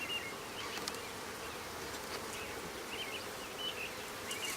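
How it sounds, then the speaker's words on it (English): Honey bees swarming around a new backyard hive at its one-month inspection, a steady close buzzing drone with individual bees flying past the microphone, no voices. "Lots of activity in the center of the hive here."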